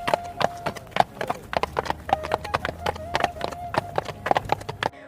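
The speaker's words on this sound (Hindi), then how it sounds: "वह घोड़े पर बैठकर दूसरे राज्य पहुंच जाता है" A horse trots along carrying a rider toward another kingdom, its hooves clip-clopping in a steady, quick rhythm of sharp knocks, moderately close, over a faint background hum.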